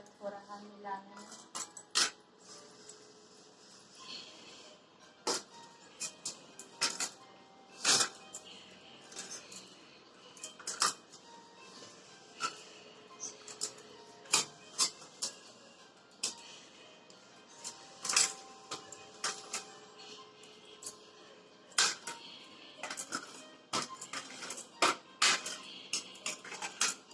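Potato and gram flour sabzi stirred in a hot pan, a spoon scraping and clinking against the metal in frequent sharp taps and scrapes that go on steadily without speech.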